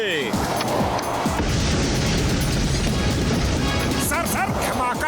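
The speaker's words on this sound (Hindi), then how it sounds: "सर धमाका सुना?" A cartoon explosion from the Hindi animated show Motu Patlu erupts as a loud, sustained rumbling blast with crackling debris, filling the scene for several seconds before sliding whistling tones near the end.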